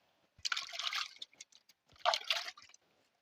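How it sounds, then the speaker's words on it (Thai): Water is sprayed onto freshly planted vegetables in a garden bed, in two short hissing, splashing bursts separated by a brief pause. It is fairly close and heard alone. "เขาก็ต้องมาหดน้ำอีกครับผม"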